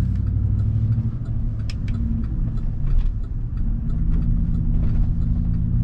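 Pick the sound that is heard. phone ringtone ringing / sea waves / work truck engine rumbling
work truck engine rumbling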